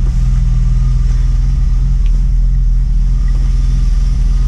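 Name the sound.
BMW 325i E36 engine running just after starting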